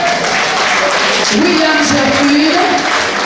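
Audience applause at a Semaine Bleue culture and heritage event, a dense, continuous clapping wash heard close and loud throughout, with a voice speaking briefly over it.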